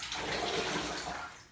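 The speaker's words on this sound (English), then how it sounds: "You're just gonna take some water like so. And just rinse him." Water pours over a cat being rinsed in a bath, a steady close rushing splash that keeps on evenly before easing off slightly at the end, with no voices.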